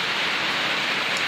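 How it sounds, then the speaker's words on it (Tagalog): Steady rain pours down around a home kitchen with damaged, leaking corrugated iron roofing, a dense even hiss holding constant throughout the short stretch with no voices. "panahon ngayon, umuulan"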